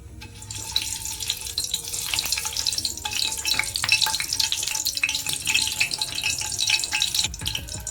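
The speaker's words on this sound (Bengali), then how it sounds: "গরম মশলাগুলো আমি ভালো করে একটু নেড়ে চেড়ে তেলের মধ্যে একটু ভেজে নেব" Whole cardamom pods, cloves and a cinnamon stick frying in a karahi of leftover onion-frying oil, a steady close bubbling sizzle with scattered crackles and light stirring clinks, no voices.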